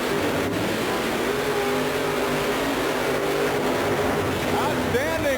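Monster trucks Gravedigger and Wild Hair, driven by Dennis Anderson and Marvin Smith, roar side by side in a 1990 race, a loud sustained engine drone with rising revs near the end under a commentator's voice.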